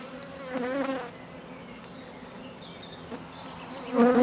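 Bees hum steadily from an opened beehive, a soft continuous buzz with a few louder passes of individual insects close by.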